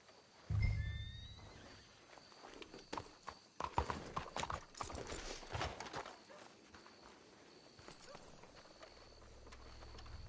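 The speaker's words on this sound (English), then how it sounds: "Let's hitch your horses up ahead." Horse hooves clip-clop on the ground in the Red Dead Redemption 2 video game, a close burst of steps with a whinny, then quieter walking under ambient game sound.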